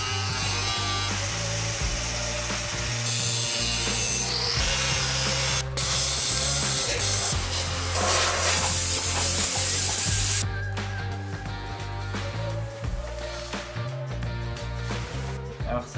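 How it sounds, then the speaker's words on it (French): Rusted rocker panel being cut out of a Peugeot 205, a loud, continuous grinding and cutting din with harsh hissing bursts and shifting tones, ending in quieter clanks and rattles. "je viens de découper toute la partie pourrie"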